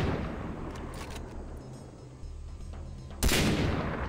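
Gunfire in the shooter game Far Cry 3: scattered distant shots over a rumbling background, ending in one loud close burst.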